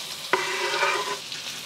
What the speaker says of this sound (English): adding my onions and the white and light green parts of the green onion right into the middle